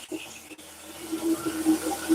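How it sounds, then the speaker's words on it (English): Tap water runs into a kitchen sink, splashing as a purple sweet potato is rinsed, a steady soft flow that stays close and fairly quiet throughout. "So I'm just making sure I rinse it all off"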